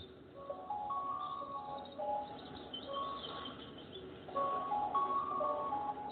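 Birds chirping and tweeting in an outdoor setting by the ocean, with several bright calls repeating at close to middle distance over a steady soft wash of waves, no talking.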